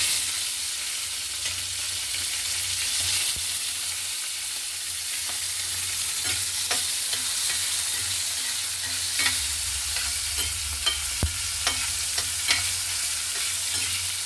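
Cumin, mustard seeds and green chilies frying in hot oil, a dense steady high hiss with scattered small pops and crackles, close and unbroken, no voices.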